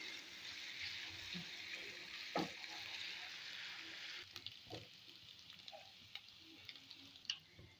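Garlic paste sizzles in hot ghee in a pan, a steady soft frying hiss with scattered pops and occasional clicks of a spoon stirring, heard alone without talk.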